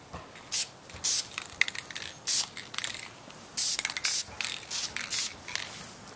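A spray can lays a light coat of paint on a plastic bottle prop outdoors, producing loud hissing bursts of about half a second to a second, separated by brief pauses and faint can rattles.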